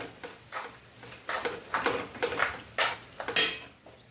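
Fenugreek leaves are stirred into a pan for garlicky dhaba-style methi bhaji, producing a series of close, rhythmic spoon scrapes and clinks against the metal pan, with no speech.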